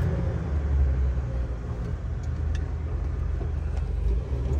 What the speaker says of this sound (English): Engine's very smooth.